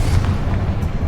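A Confringo blasting spell going off in Hogwarts Legacy, a deep rumbling boom with a heavy low-end roar that carries through the whole short moment.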